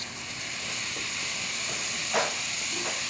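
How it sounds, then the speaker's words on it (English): A Breville espresso machine steam wand hisses steadily and close, streaming continuously, with a brief sputtering gurgle and pitch shift near the end. "As you can see, steaming properly."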